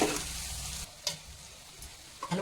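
Ridge gourd curry stirred in a pan after simmering covered, a soft steady sizzle with a few spoon scrapes and light taps against the pan, close and fairly quiet.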